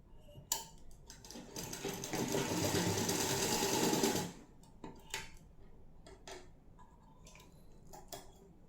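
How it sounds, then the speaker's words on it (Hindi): A sewing machine stitches blouse fabric in a straight run of about three and a half seconds, close and fairly loud, followed by scattered clicks and taps of handling the cloth. "ये सीधी सिलाई, और ये ऐसे सिलाई लगाएंगे, यहाँ लॉक कर देंगे"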